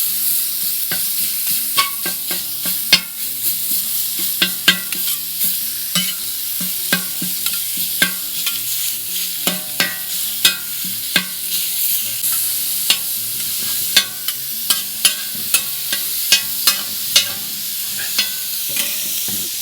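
Ground sausage fries in a pan with a steady sizzle, broken by repeated sharp scrapes and clacks of a utensil stirring and chopping the meat at close range.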